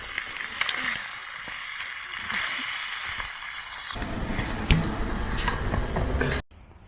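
Bacon and eggs frying over a campfire at an outback camp, a close crackling sizzle with scattered pops and clinks, steady for several seconds before cutting off abruptly.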